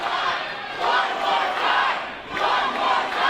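A wrestling crowd at a dog collar match roars and cheers in loud swelling waves, with no talk over the noise.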